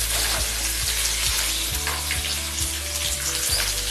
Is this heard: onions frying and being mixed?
yes